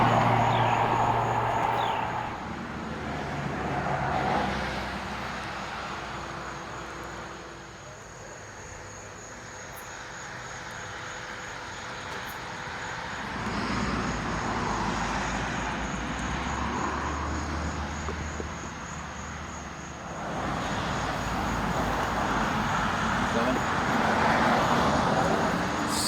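Traffic rolls past on a busy roadside, cars and larger vehicles swelling and fading in long waves, with a faint insect-like hiss holding steady underneath.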